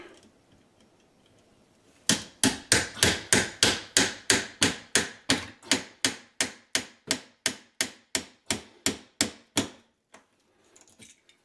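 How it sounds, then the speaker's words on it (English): A hammer strikes a knife into wood over and over in a steady, rapid rhythm, about two dozen sharp, loud blows, then stops. "I'm going to have to do the old hammer bash."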